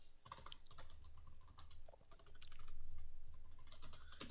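Fast, steady typing on a computer keyboard, a continuous run of close, crisp key clicks with varying intensity and no talking.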